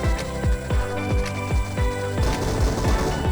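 Rapid bursts of game gunfire crack in a steady, rhythmic series, loud and close, with a dense flurry of shots near the end.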